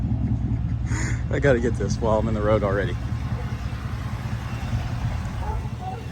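A 2021 Ford F-150 pickup, leveled and on 14-inch-wide wheels, hums with a low steady engine rumble on the road while someone talks over it.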